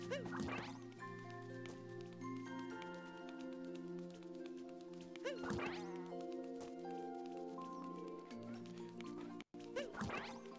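A sheep bleats in the Mushroom Kingdom of the video game Super Mario Odyssey: three short, wavering bleats spaced several seconds apart, heard over steady background game music with a voice talking now and then.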